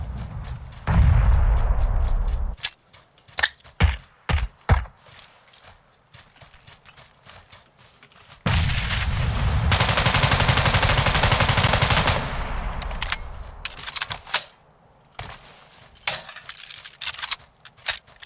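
Gunfire in the video game PUBG, bursts of loud shots scattered across the stretch, including a sustained volley in the middle, amid footsteps and movement sounds with no talking.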